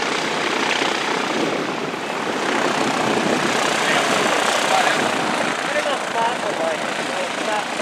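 A WWII-era Navy propeller aircraft drones overhead, a loud continuous rumbling roar with voices faintly mixed in beneath it.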